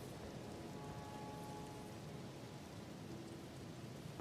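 Steady rain hisses across the landscape in the Elden Ring video game, a dense, even wash of falling drops with faint rumbling underneath, unbroken and without speech.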